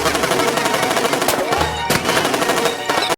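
Rapid automatic gunfire erupts from guns hidden in an evil puppet's metal bra in a 2012 Puppet Master horror film, a dense, loud, continuous rattle with a few heavier bursts, ending abruptly.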